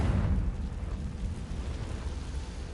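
A Confringo fire spell explodes in the Hogwarts Legacy video game, opening with a deep, heavy boom that rolls into a sustained low rumble over the rest of the clip, with no voices.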